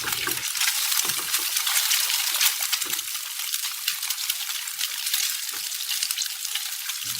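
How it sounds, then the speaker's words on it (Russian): Steady, bright sizzling of an egg frying in hot oil, continuous crackle throughout with a few faint low clunks. "Сначала поджарьте яйцо"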